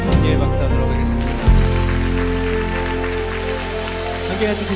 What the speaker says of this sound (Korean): 서로를 향해서 격려의 박수하도록 하겠습니다.